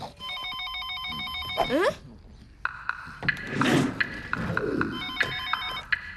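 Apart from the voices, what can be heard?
telephone ringing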